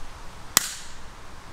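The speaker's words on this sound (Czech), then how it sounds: "test si petardy odpálíme v této staré plechovce" A small Dumbum Black Pirát firecracker pops once inside an old tin can, a single sharp near crack that decays quickly with nothing else around it.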